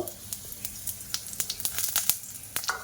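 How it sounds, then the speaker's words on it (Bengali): Panch phoron and chopped dry red chillies crackle in hot mustard oil, a close, steady sizzle broken by sharp little pops and spits that grow busier toward the end. "এবার আমি হাফ চামচ 5 ফোড়ন আর 3টে শুকনো লঙ্কা ছোট ছোট করে কেটে নিয়েছিলাম, তো ওটা তেলের মধ্যে দিয়ে দেব"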